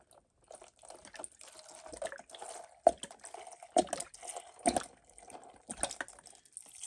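Pink Fire Brine is poured over raw shrimp in a container, giving a faint liquid trickle with soft drips and splashes that come in short bursts and swell at a few points.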